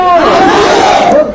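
A large crowd at a protest rally in Banshkhali, Bangladesh, roars a slogan in unison, one loud, dense burst of many voices lasting just over a second.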